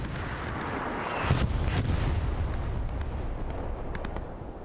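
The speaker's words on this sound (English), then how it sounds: "Now artillery for the Allies is starting to come into the point here" Artillery fire in a WWII game battle on Omaha Beach, a dense continuous rumble of distant booms and blasts that swells after the first second and rolls on under a faint crackle of sharper reports.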